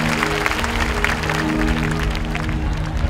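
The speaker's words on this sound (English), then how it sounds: "Clap your hands for Jesus." An audience at an evangelism healing campaign in Kenema, Sierra Leone claps its hands over a steady hum of amplified sound, the clapping moderately loud and continuous.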